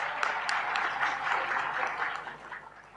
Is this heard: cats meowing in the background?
no